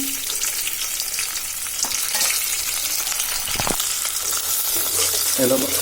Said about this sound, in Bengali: ভালোভাবে ভাজা হয়ে যাক